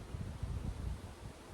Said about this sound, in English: if I feel it's a bit too windy